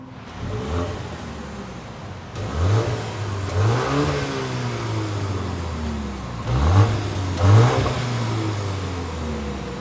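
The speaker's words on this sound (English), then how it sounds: "I love the way the quad exhaust looks, and let's go ahead and take a listen" A 2024 BMW X2 M35i engine revs up repeatedly through its quad exhaust, rising in pitch with deep exhaust rumble, two bursts of paired revs, loud and close.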